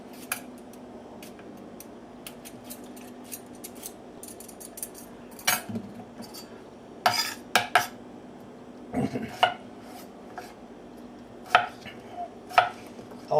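Knife chopping cucumber into rough cubes on a cutting board, a run of sharp irregular taps and clicks, close and fairly loud, with no talking.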